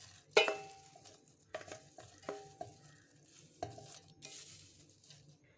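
Curry leaves being fried and stirred in a pan of onions and chillies for a Tamil kuzhambu, with intermittent metallic scrapes and clinks of a spoon against the pan over a quiet sizzle.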